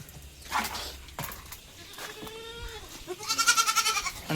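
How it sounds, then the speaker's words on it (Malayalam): Two young Malabari goat kids, about two to three months old, bleat at a farm sale, with a couple of short calls followed by a louder, wavering bleat near the end, close by. "ഈ വെള്ളം കൊണ്ടു തുടങ്ങിയ ചെറിയ 2 ആട്ടുംകുട്ടികളുണ്ട്"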